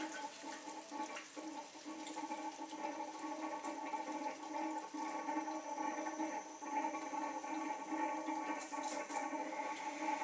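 Water draining through a reverse osmosis filter system, a steady gurgling flow like a flushing toilet, continuous and close.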